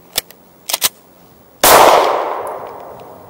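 A few light metallic clicks from an HK VP9 pistol at a shooting range, then a single loud, sharp gunshot that rings out and decays over more than a second.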